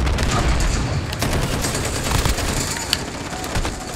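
Rapid SCAR rifle gunfire in the Call of Duty Shipment map, dense bursts of shots and explosions overlapping continuously, with someone talking over the action.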